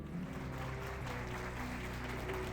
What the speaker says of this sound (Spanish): recibamos con un fuerte aplauso a Diana Uribe